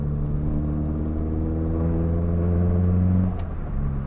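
Nissan Pulsar GTi R with a 230 bhp engine, a steady droning hum with strong low tones held at near-constant revs, briefly dipping and shifting near the end, close and loud with no talk.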